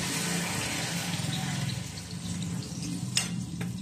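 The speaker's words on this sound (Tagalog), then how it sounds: "lagyan natin ng tubig." Water pours into a cooking pan holding tenga ng daga mushrooms and okra, a steady gurgling and splashing stream with a few clinks near the end.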